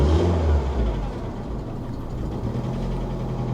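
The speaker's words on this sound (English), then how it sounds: "Let's give it a little rev." An old Chevy truck's engine revs briefly and roughly, a low, loud surge that settles into an uneven idle nearby, with some chatter from under the hood.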